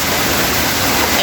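Floodwater after heavy rain rushes past in a loud, steady, broadband roar that never lets up, with a voice faintly mixed in.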